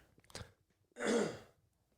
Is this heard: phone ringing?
no